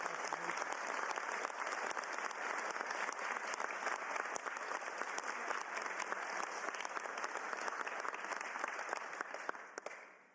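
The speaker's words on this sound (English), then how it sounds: "how about a round of applause for former Representative Gabby Giffords" Sustained crowd applause at a state bill signing, a dense, continuous wash of many hands clapping for over ten seconds before fading at the end.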